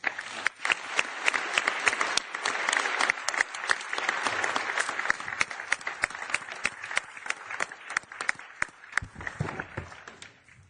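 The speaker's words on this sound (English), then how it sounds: "A last warm round of applause again, please, for the President of the Committee of the Regions" Warm applause from a conference audience after Antonio Tajani's speech at the Covenant of Mayors in Brussels, a dense sustained wash of clapping that thins into scattered claps near the end.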